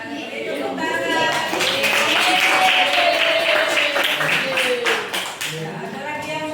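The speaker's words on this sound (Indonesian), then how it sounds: "Tepuk tangan." Classroom applause during a teacher-training lesson in Makassar: a steady wash of clapping runs for several seconds at moderate loudness, with voices mixed in underneath.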